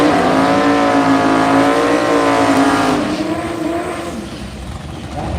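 A VT race car accelerates hard during a night qualifying session in Sydney, with a loud, close engine note rising steadily in pitch before easing and fading slightly toward the end.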